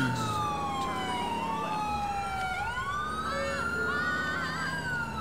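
Police car sirens from the GTA IV LCPDFR mod wail steadily and loudly, their sweeping tones rising and falling and overlapping throughout, with a continuous vehicle engine rumble underneath.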